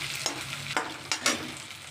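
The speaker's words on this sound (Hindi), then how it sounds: "और इधर मैं अपना प्याज लाल कर रही हूँ।" Onions browning in hot oil in a pan sizzle steadily up close, with a few sharp scraping stirs of a spoon cutting through the frying hiss.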